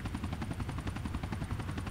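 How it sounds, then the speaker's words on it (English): A sheriff helicopter flies overhead in a police-patrol video game, its rotor making a steady, rapid chopping pulse that stays loud and close throughout. "Yeah, see that chopper."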